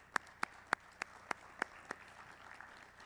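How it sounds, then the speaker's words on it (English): Seven evenly spaced, sharp single claps ring out at an MLK celebration event after a gospel choir. They are close and crisp against a quiet room, and faint scattered clapping lingers afterward. "One more round of applause."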